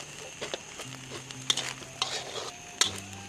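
Pineapple fried rice stirred in a wok with sugar, curry powder and pepper, close spatula scrapes and clanks over a low sizzle, with a few sharp metallic knocks.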